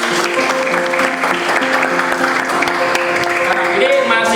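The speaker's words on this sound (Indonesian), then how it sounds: "Tepuk tangan." A school classroom claps together in a brief, dense burst of applause, with voices mixed in.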